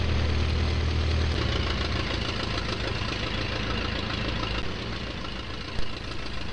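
Cirrus engine of a Moth seaplane with all-metal twin floats, in a flight simulator, drones steadily in flight as a loud, continuous low rumble with a brief bump near the end.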